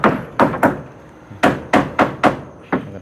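Sharp hammer blows on wood during floor-board installation in a house extension, about eight strikes in irregular bursts, loud and close with no talking.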